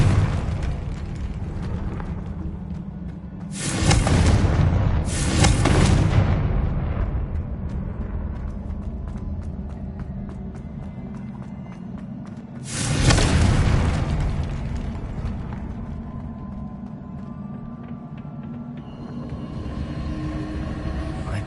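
Confringo spell explosions in a Harry Potter video game erupt as three heavy booming blasts, two in quick succession and a third several seconds later, each with a rumbling decay over a steady background.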